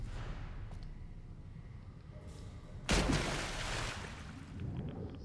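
An explosion goes off in the game Fallout: New Vegas: a single sudden, fairly distant blast about three seconds in, fading into a rumbling tail over quiet ambient background.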